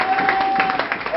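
A church congregation applauding and cheering to acclaim God, a brief burst of dense crowd clapping with voices mixed in and a thin sustained tone running beneath.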